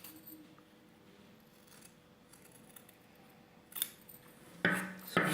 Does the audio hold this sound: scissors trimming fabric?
yes